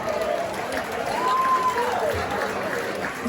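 Crowd applause, a steady wash of clapping over a noisy room, fairly loud and continuous throughout.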